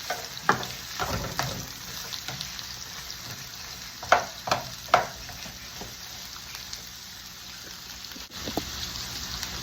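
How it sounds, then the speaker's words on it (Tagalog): Onions browning in oil in a cooking pot give a steady close sizzle, broken by several louder scraping stirs without any talk. "i-brown lang natin ang onions"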